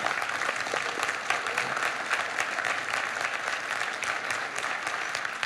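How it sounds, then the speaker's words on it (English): Steady, even applause from a town meeting audience, a dense wash of many hands clapping at moderate distance without pause. "Okay, I'll let you clap."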